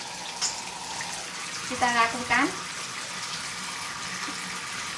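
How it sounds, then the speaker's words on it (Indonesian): Tap water runs steadily for handwashing, a continuous hiss beneath a few words of speech. "Cuci tangan nanti tetap 6 langkah dengan air mengalir seperti ini."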